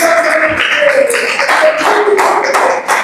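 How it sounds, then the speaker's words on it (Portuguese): A church congregation at a family service claps hands together in a dense, lively patter, steady and fairly loud throughout with no one talking. "E uma salva de palmas bem alegres ao Senhor"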